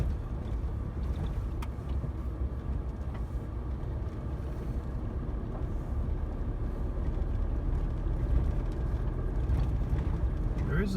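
A car drives along a gravel track off the main road, with a steady low rumble of engine and tyres over loose stones that grows slightly louder toward the end, while someone talks over it.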